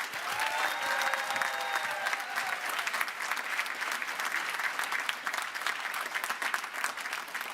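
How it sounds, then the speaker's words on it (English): Sustained applause from a large crowd at a university graduation ceremony in London, an even, continuous roar of clapping held throughout. "Should we pause for a big round of applause again, please?"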